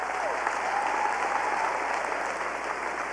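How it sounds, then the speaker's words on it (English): An audience at a Dancing with the Southern Stars dance event applauds the staff with steady, dense clapping that fills the room evenly from start to finish. "So please give my staff a round of applause."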